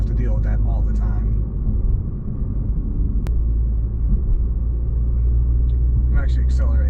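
Toyota Supra fitted with an HKS Hi-Power exhaust accelerating gently in traffic: a steady, deep exhaust rumble runs throughout, fairly close, with voices over it.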